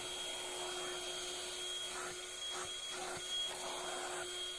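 Homemade vacuum cleaner built from a paint bucket runs continuously with a steady motor whine and airy rush, moderately loud and close, with faint shifting sucking surges and no talk.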